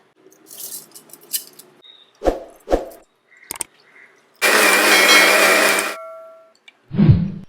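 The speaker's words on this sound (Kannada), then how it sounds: "ಉಳಿದಂಥ ಅಕ್ಕಿನ ನಾನೀಗ ಮಿಕ್ಸಿಯಲ್ಲಿ ರುಬ್ಕೊಳ್ತಾ ಇದ್ದೇನೆ" A kitchen mixer grinder whirs loudly while grinding overnight-soaked rice, a dense steady roar of about one and a half seconds that winds down, after some scattered clinks and taps of handling.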